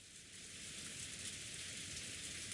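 Steady rainfall hisses evenly and faintly in the visual novel Umineko Chiru, a continuous wash of falling rain with no other sounds.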